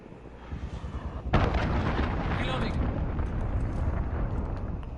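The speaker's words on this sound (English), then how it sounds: "Enemy cruise missile incoming." A video game enemy cruise missile strikes with a sudden loud explosion, then a heavy, sustained rumbling roar of debris and fire that fills the rest of the moment.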